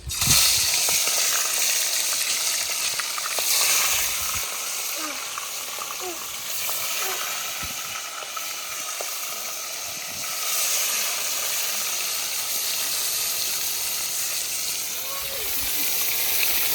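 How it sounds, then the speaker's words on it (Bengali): Chital fish pieces fry in hot oil, a loud, close, continuous sizzle and hiss that runs the whole time with small pops and crackles. "গরম হয়ে গেছে, এখন মাছগুলো ভেজে দেবো। এক এক করে মাছগুলো দিয়ে দেবো।"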